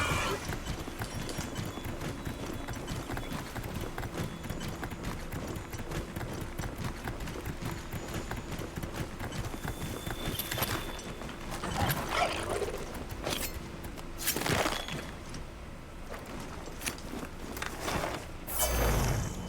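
Hooves of a ridden mount clip-clop steadily in Monster Hunter Wilds, a continuous rhythmic trot with creaking gear and occasional louder thuds, moderately faint and without talk.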